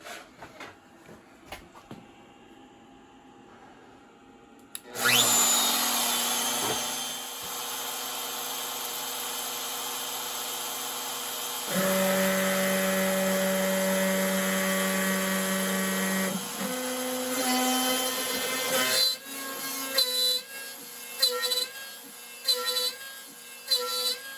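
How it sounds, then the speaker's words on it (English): A CNC router spindle cuts wood on an Easel-controlled machine, running a loud, steady high-pitched whine that shifts pitch partway through, then breaks into short bursts as the cutting finishes, with no talk. "now I confirm that the spindle is on. So let's go turn the spindle on."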